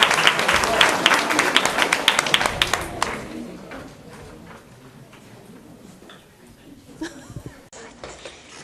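An audience at a school theatre show applauds, a dense crackle of many hands, fairly loud at first then dying down after a few seconds into scattered faint claps and room murmur, with some talk.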